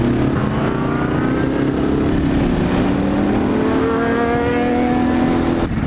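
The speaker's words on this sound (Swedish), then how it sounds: "So it's me on this Husqvarna 610 with BMW S1000RR and R1." A Husqvarna 610 supermoto motorcycle engine rides alongside BMW S1000RR and Yamaha R1 sport bikes, a loud steady close engine drone with rising and falling revs that holds throughout, then cuts off sharply at the end.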